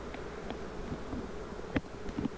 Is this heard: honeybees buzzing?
yes